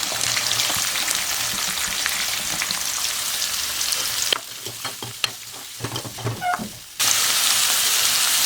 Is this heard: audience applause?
no